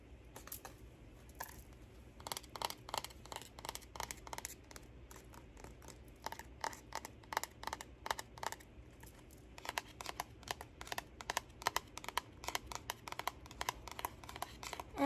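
Tarot cards being shuffled, with repeated papery riffles and crisp flicks coming in bursts across the clip, fairly close and soft, with no talking.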